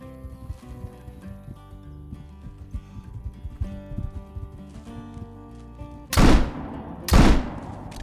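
Two loud, booming rifle shots ring out about a second apart, closing a hunting video game scene aimed at a caribou, preceded by softer clopping and ambient game sounds.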